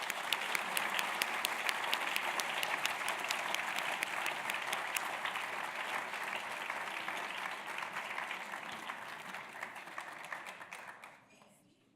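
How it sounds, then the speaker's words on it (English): Sustained audience applause for award winner Maria Taylor at the 2016 John E. Drewry Award ceremony, a dense steady wash of clapping from a crowd indoors that holds for about ten seconds and then fades out. "So if everyone can please congratulate Maria Taylor tonight."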